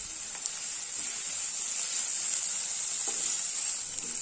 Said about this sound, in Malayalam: ഇനി ഇതിലേക്ക് 2 സവാള കട്ട് ചെയ്തത് ചേർത്ത് കൊടുക്കാം. ഇനി ഇത് വഴറ്റി കൊടുക്കാം.